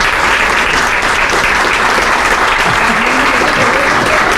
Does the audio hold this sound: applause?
yes